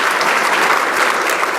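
An audience applauds Senator Elizabeth Warren's speech on Capitol Hill, a dense, steady wash of clapping hands that holds at full strength from start to finish with no voices rising above it.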